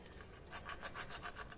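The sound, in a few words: hand sanding a Fiat Uno engine part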